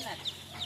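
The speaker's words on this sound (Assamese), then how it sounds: "এয়া ব্ৰইলাৰ আৰু কয়লাৰ পোৱালিকেইটা নমাইছোঁ।" Broiler and layer chicks being unloaded at a poultry farm give a couple of quick, high cheeps in a brief, fairly quiet burst.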